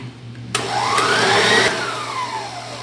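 An electric stand mixer whirs as it beats cake batter with dark vanilla for a filled party cake, its motor rising in pitch and then easing down, loud and close, alone without talk.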